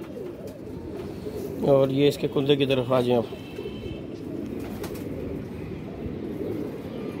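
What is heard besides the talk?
pigeons cooing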